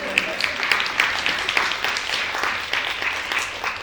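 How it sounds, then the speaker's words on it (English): Audience applause at a media and emerging technologies conference panel, steady dense clapping with some sharper claps near the start, continuous throughout without any voice. "I'll just ask that we give a final applause to"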